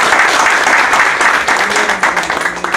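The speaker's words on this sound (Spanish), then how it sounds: "Que se siente el aplauso." A crowd at a birthday celebration claps loudly and continuously, the thick applause holding steady throughout with faint voices mixed in.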